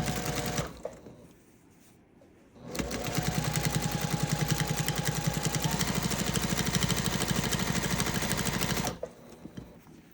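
A sewing machine stitches along the bottom of a quilted fabric gift bag, running in one steady rapid burst of several seconds, with quieter handling before and after.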